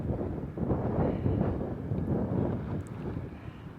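Wind blows across a mountain peak on the Pacific Crest Trail, a steady low rumbling gust that buffets the microphone continuously.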